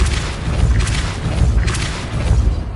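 A heavy, rumbling whoosh from the Depulso force spell in Hogwarts Legacy, loud and full, rolling on with no gap and with a swelling surge in the middle.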